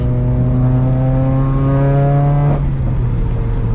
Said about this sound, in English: That was a 4th gear pull. Yeah, no, this thing is super loud.